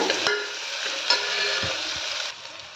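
Onions and tomatoes sauté in a pan for a gravy, a dense close sizzle with a few knocks and scrapes of a stirring utensil, cutting off sharply near the end, no voices.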